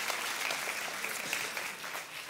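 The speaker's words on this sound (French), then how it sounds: "Est-ce que vous pouvez applaudir tous ceux qui sont sur Internet pour pas qu'ils quittent, s'il vous plaît?" Sustained, dense applause from a church congregation fills the room, steady and loud throughout with no pauses.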